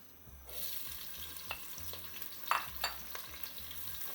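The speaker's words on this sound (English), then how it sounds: "to fry the onions only for a short time." Onions frying in a pan with garam masala, a steady broadband sizzle that starts after a brief quiet moment, with a few sharp clicks and pops of utensil contact scattered through it.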